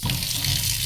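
Water runs from a kitchen sink tap in a modern rental apartment kitchen, a brief steady gushing hiss close by with no speech over it.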